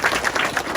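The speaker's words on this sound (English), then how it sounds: "let's give Sal a nice round of applause" Brief burst of audience applause for a man named Sal being called up, scattered clapping heard close and moderately loud for under a second.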